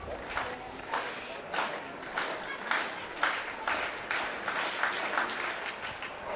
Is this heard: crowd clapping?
yes